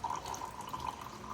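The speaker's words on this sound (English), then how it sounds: "We're gonna pour it into our sugar." Freshly percolated espresso-style coffee pours steadily into a cup of sugar, a continuous close trickle of liquid with a bright, faintly gurgling stream running throughout, no voices.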